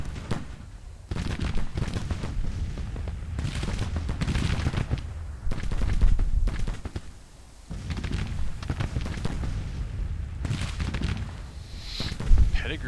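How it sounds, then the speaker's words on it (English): Infantry volleys in a Civil War strategy game crackle in repeated bursts of rifle fire, moderately distant, with short pauses between the waves of shots. "So they're still firing."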